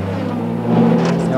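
A race car accelerates out of the pit lane during the 1995 Spa-Francorchamps 24 Hours endurance race, a steady droning engine note that swells louder partway through, with a commentator's voice running over it.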